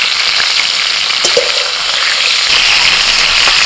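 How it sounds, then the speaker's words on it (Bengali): Shrimp frying in hot oil in a home kitchen, a steady loud hiss and crackle with a few sharper spits and pops throughout, no voices. "চিংড়ি মাছ তেলের মধ্যে পড়লেই আস্তে আস্তে লাল কালার উঠে যাবে"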